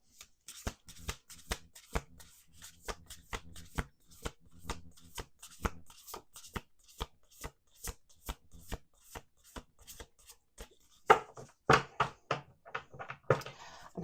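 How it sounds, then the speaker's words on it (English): Tarot cards are shuffled by hand on a table, a quick run of crisp, papery riffles and taps in a fairly regular rhythm, faint and close, ending in a denser flurry of shuffling. "Two more shuffles."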